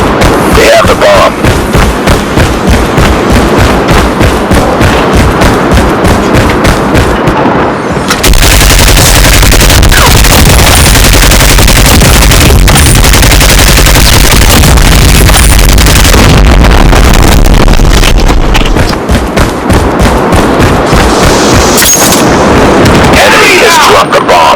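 Rapid gunfire from Call of Duty Mobile during a bomb-defusal round, loud and continuous with dense automatic bursts and sharp single shots, a heavier sustained stretch of firing in the middle, and game announcer speech over the action.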